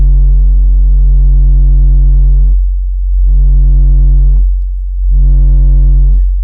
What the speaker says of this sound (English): So I remember being pretty happy with the way that that went into distortion.